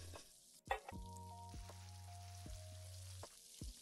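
Chili cheese fries sizzle and fry in a cooking video game, a steady frying hiss under clicky interface tones and short musical beeps, with no talk.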